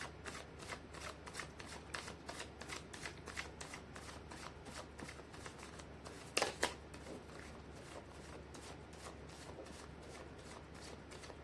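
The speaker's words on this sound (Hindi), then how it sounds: "मैं कर लेती हूँ कार्ड की शफलिंग" Tarot cards are riffled and shuffled in a fast, steady run of crisp papery flicks, close and fairly quiet, with one louder snap of the deck partway through.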